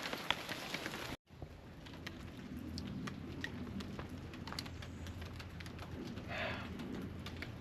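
Steady rain patters outdoors around an abandoned Mercedes 190 turbo diesel, a continuous soft hiss of drops on surfaces with a brief dropout near the start and scattered faint bird calls.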